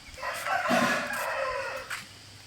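Roosters crow on a poultry farm, one long drawn-out crow rising and falling up close, with other birds calling faintly around it in an open outdoor setting.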